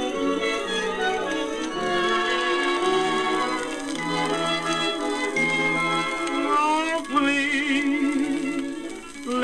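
A song with an orchestra plays as a continuous recording. Crooned vocals sit over rich orchestral accompaniment, steady and fairly loud throughout, with no talking over it.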